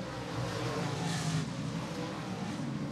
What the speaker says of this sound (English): you hear Garrett Stewart hard on the throttle as he comes by the tower here now